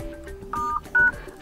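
Keypad tones from a Nokia 1.3 phone as a secret code is entered: two distinct, fairly loud beeps, each lasting about a quarter second, sounding alone over a quiet background.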